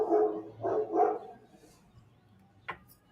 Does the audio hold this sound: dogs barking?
yes